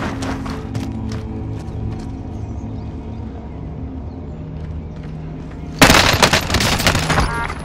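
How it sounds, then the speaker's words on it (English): Gunfire in the video game Call of Duty: Modern Warfare, scattered faint shots over a humming game background, then a sudden loud, dense burst of automatic fire near the end. "I'm under fire."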